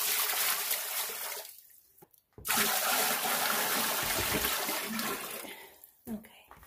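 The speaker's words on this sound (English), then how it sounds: "It says fill the basin with water." Water pours into a sump pump basin in a loud, steady gush, breaks off briefly, then resumes for several seconds and tapers off with a short splash near the end.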